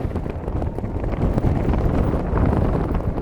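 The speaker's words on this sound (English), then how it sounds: "Look at that wind." Strong wind buffets the microphone on a golf course, the Old Course played in reverse, making a constant loud rumbling roar with gusty fluctuations. No speech is heard.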